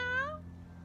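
A voice imitates a cat meowing, calling out loud as one of several animals: a single drawn-out, gliding meow that fades after a short burst.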